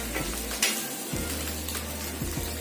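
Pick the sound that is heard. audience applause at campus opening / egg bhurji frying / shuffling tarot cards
egg bhurji frying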